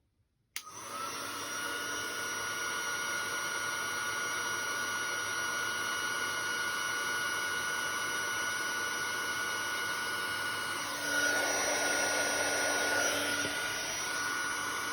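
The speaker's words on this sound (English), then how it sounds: "So I'm just going to switch on my heat tool." An electric heat tool blows a steady, even whoosh of hot air for embossing powder on paper craft work, holding constant for a long stretch with a slight pitch change near the end.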